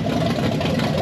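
A 540 big-block V8 in a C10 pickup idles roughly and a little unevenly, with a loud, close, low rumble that runs steadily through a brief moment.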